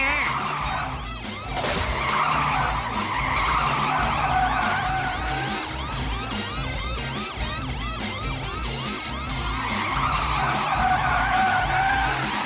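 Cartoon car racing along at speed with tires skidding and squealing, continuous and loud for the whole stretch, with wavering siren-like tones mixed into the chase.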